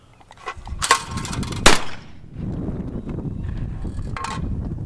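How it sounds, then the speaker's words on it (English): Remington Model 58 shotgun fired outdoors at skeet, two sharp loud blasts close together followed by a fainter third shot, with wind noise running underneath. "we're gonna shoot a few skeet and see how it runs"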